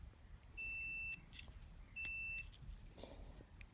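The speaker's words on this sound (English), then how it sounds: "Fourth gear, but then third gear also beeps." Gear selection on a JCB 532 telehandler with a suspected shuttle or solenoid fault sets off a warning buzzer: two steady high-pitched beeps, each about half a second, over faint low machine rumble.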